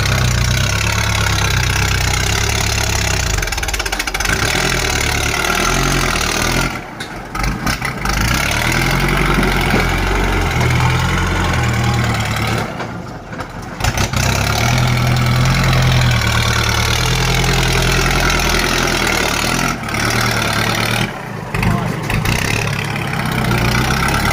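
Kubota L5018 tractor with a loud aftermarket exhaust idling close by, a steady, harsh low rumble with knocking texture that holds throughout, broken by a few brief dips.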